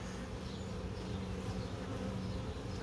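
Honeybees buzz steadily inside an open hive being inspected ahead of a possible swarm, a dense, continuous hum close by with no pauses and no talking.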